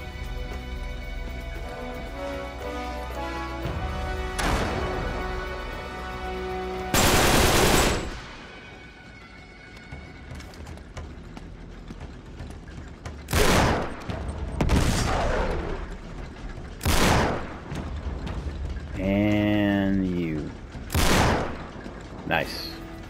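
Gunfire in the video game Uncharted 3: Drake's Deception, with loud bursts of shots and explosive blasts scattered among game music and effects, coming close and strong at irregular intervals.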